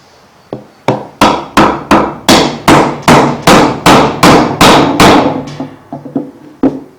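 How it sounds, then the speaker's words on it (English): A big steel hammer pounds a block of wood held against a small tin cap on a boat trailer hub, giving a loud, close series of about a dozen sharp blows that speed up, then slow and fade out. "And we're going to take our hammer, lay a block of wood in there."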